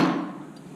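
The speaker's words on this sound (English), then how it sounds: "So I'm just hammering the corners, bringing them down." A hammer strikes the corners of a silver band ring once, a single close metallic tap that decays quickly.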